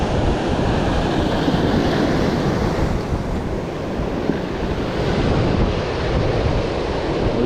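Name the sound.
strong ocean waves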